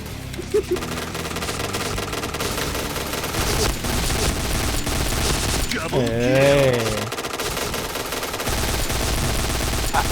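An UZI submachine gun in the video game Point Blank fires continuous rapid automatic bursts across the whole stretch, loud and close, while someone speaks intermittently over the shooting.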